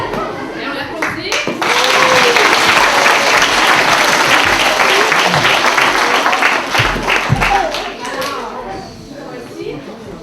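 An audience at a school event applauding, a loud sustained burst of many hands clapping that swells quickly and fades toward the end, with voices mixed in.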